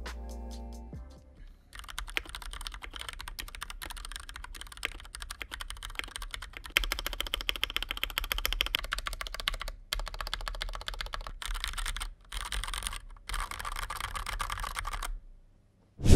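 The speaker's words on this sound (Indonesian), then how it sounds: "suara clicky dari switch blue itu bakalan nutupin suara dari modifikasi yang kita akan lakukan ke keyboard ini" A Fantech MAXFIT61 mechanical keyboard with clicky blue switches is typed on steadily and quickly, giving a dense, crisp stream of sharp key clicks that runs for about fifteen seconds with a few brief pauses.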